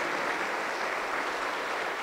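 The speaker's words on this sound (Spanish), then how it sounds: "Aplauso para el Señor Jesús." Dense applause from a church congregation, steady and continuous, with no voices standing out.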